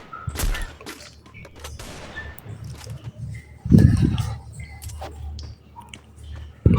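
Desert Eagle shots ring out in the Free Fire battle royale game, a handful of sharp, loud reports spread unevenly across the stretch, with a heavier burst midway and another at the close, no talk.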